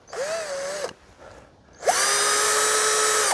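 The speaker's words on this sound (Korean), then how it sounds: "이제 벗기고 난 다음에 드릴로 해서 가지를 끼워 넣을 수 있게끔 드릴로 좀 홈을 좀 파겠습니다." A power drill boring a groove into a stripped branch for grafting, in two loud whining bursts with a brief quiet gap, the second run longer and steadier.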